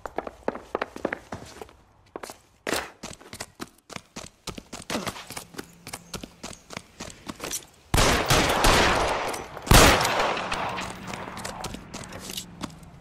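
Gunfire in L.A. Noire, where a run of quick footsteps and clattering taps gives way to a noisy burst and then a single loud, sharp shot, followed by scattered lighter impacts.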